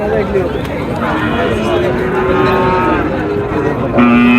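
Bull calves at a weekly rural cattle market low and moo in drawn-out calls, the loudest close by near the end, over a constant murmur of crowd chatter and bustle.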